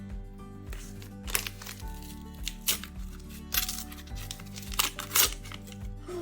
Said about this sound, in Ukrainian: Давайте відкриваємо наш пакетик.